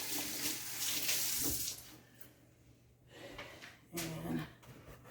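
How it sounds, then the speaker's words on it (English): Water runs from a kitchen tap as hands are washed after handling raw salmon, a steady splashing stream that fades mid-clip and surges back strongly near the end, with a faint hum underneath. "Alright, wash my hands."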